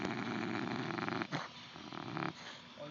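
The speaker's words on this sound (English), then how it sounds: "Snoring so loud." Loud snoring rumbles close by in two long, rasping breaths with a short pause between them, followed by a quieter exhale.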